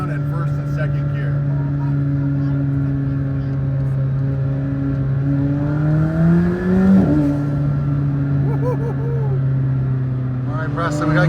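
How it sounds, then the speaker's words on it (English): A McLaren Senna engine held in first and second gear, its steady harmonic drone rising and falling with blips and a sharp shift near the middle, followed by faint crackling pops; loud and close, no talk. "Oh, the downshift pops so good. Just playing around in first and second gear."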